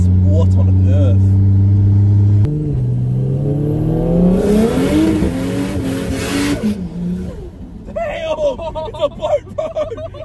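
A Holden ute with a Barra engine revs hard and climbs in pitch, loud and close, with excited voices talking over it as it settles down.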